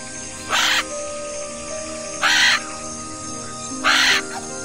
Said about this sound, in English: Meet the majestic macaw, with its brilliant plumage and melodic calls that echo through the treetops.